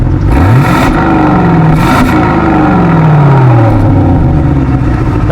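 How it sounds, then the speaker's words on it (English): Aston Martin DBX SUV starting up and revving, heard from behind at the exhaust: loud, close engine blips with rising and falling pitch sweeps, no talking. "let's hear how the car sounds from the back"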